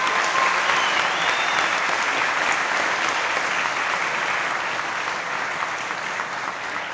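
An audience applauding three speakers at a talk, dense clapping that holds steady and then slowly thins toward the end.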